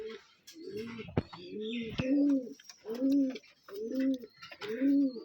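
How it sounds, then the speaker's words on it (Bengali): A young coffee-coloured pigeon pair on a Rajshahi pigeon farm coos close by, giving five soft rounded coos in a steady, evenly spaced rhythm with a couple of sharp clicks between them. "প্রথমতই আমরা দেখতে পাচ্ছি কফি কালার এক জোড়া কবুতর"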